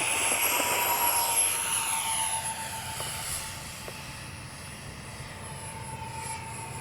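A radio-controlled C-17 Globemaster model jet roars steadily through its takeoff run, its whine loud and near at first before easing slightly as it climbs away outdoors.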